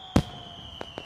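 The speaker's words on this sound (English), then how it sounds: "Get the fireworks." Touchdown fireworks in NCAA Football 14 go off as one sharp bang followed by two fainter pops, over a quiet steady game tone.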